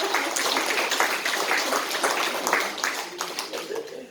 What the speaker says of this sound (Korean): 이때 박수 한번 치셔야 될 것 같은데